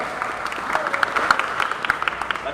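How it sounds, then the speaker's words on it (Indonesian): Audience applause during a lecture on statehood by a retired air force officer, steady clapping from a crowd throughout, fairly close and even, with no speech over it. "Tepuk tangan sekali lagi."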